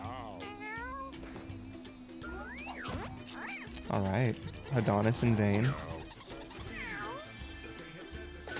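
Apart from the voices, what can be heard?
cats meowing in video game Mewgenics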